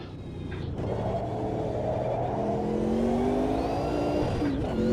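Sauber C9 race car in Automobilista 2, engine roaring steadily and rising in pitch under hard acceleration, loud and close, a continuous throaty drone with a gear change near the end.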